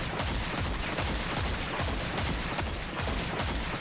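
A video game gun being test-fired at range: a continuous, loud stream of rapid automatic shots with a steady rhythm, almost unbroken from start to finish.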